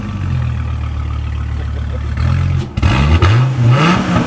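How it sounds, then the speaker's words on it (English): A 2014 Dodge Viper TA's V10 with side exhaust idles with a deep rumble, cranks and catches, then revs up loudly with rising and falling engine notes close by. "should we fire it up and see what it sounds like?"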